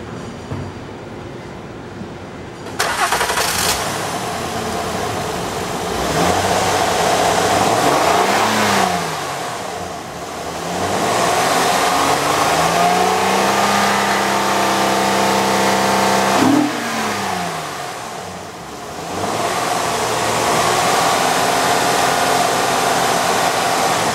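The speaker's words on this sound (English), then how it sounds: "Now starting stock number" A 2009 Honda Odyssey engine on a salvage-yard car being parted out cranks and fires after a few seconds, then revs up and down several times. It is loud and close, with no talking.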